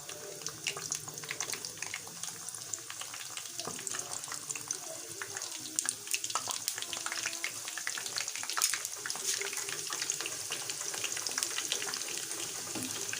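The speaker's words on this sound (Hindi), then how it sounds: "अब हम इनको फ्राई करेंगे।" Chicken potato samosa parcels sizzle in about one and a half cups of hot oil, a steady dense crackle and hiss running throughout at close range with no talk.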